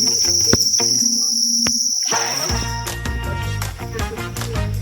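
Crickets on a cricket farm keep up a loud, steady high-pitched chirring close by. Clicks and rustling from handling sound under it, with no speech.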